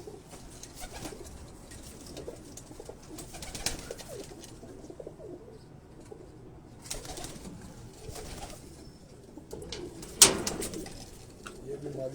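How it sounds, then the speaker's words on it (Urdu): Pigeons cooing on a rooftop loft in Karachi, soft low coos repeating now and then at moderate distance, with quiet ambient noise and a short sharp sound near the end. "بالکل کبوتر سکون میں ہوتے ہیں۔"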